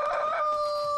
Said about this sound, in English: I despise a flogging rooster.